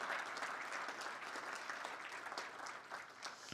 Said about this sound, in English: how about another round of applause for the governors that you heard from today?